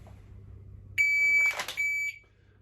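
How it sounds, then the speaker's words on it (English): A single loud, steady electronic beep from a shot timer sounds for about a second, with a brief sharp burst of noise over its middle, after quiet room hum. "I need to really explode the moment that beep gives me permission to go."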